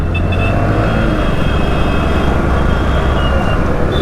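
Bajaj Platina 110 motorcycle engine with a catalytic converter, a steady, loud droning hum at constant speed on the road, continuous and even with no talking heard.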